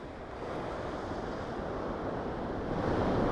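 Ocean waves break on a shore as a continuous broad wash, mixed with wind noise, swelling slightly louder toward the end.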